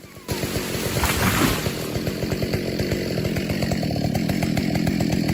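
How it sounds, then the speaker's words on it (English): A chainsaw bites into a large tree trunk in a snowy forest, its engine roaring loud and close under load with a rapid chattering chain rhythm held steadily throughout. "The worker was wearing a thick warm coat, using a chainsaw to cut it down firmly."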